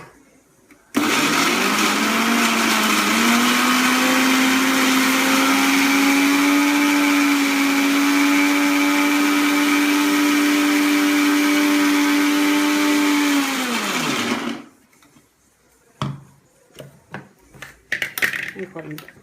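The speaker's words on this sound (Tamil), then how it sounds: "இதை அரைச்சிக்கணும். இது அரைக்கிறதுக்கு 1 செகண்ட் தான் ஆகும்." A mixer grinder whirs loudly at a steady high-pitched motor whine for about fourteen seconds, then winds down and stops, followed by clinks of the jar and brief talk.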